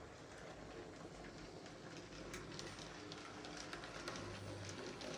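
A steady rushing rumble of a model London Underground Central Line train moving along the track, with faint rhythmic clicks and a hiss throughout, no voices.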